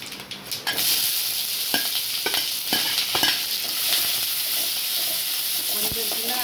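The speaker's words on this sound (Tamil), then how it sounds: "கொஞ்சம் சின்ன வெங்காயம், ஒரே ஒரு பச்சை மிளகா போட்டு வாங்கிக்கலாம்" Small shallots and a green chili sautéing in oil with cumin for masala sundal, a busy continuous sizzle close by, punctuated by repeated scraping strokes of a spoon in the pan.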